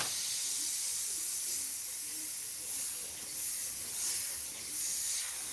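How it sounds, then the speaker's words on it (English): An airbrush spraying Createx paint onto Blair synthetic paper, giving a steady, continuous airy hiss with slight swells in pressure, close and alone without talk. "Well, because it's an airbrush, right?"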